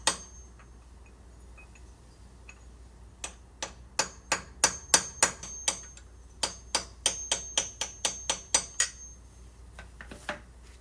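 A series of sharp metallic hammer strikes on a Honda CR-V car part during clutch replacement, about twenty blows in quick rhythmic bursts, ringing briefly after each hit in an otherwise quiet space.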